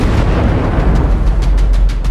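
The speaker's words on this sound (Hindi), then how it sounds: "एक जोरदार धमाका होता है," A loud explosion sound effect in a dramatized retelling of the 2019 Pulwama attack, a heavy low rumbling boom that fills the whole moment, with sharp crackling bursts scattered through its tail.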